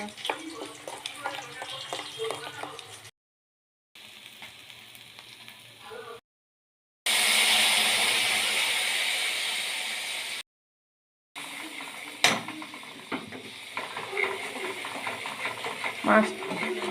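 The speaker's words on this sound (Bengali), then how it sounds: "মাছ মশলাটা কষাচ্ছি" Rohu fish and spice masala sauté in a pan with a bright, hissing sizzle, broken by abrupt silent cuts. Occasional metallic clinks and utensil taps join the frying, and faint background voices come and go.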